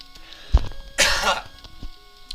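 A single person gives a short throat-clearing cough, close and fairly loud, against faint background hum.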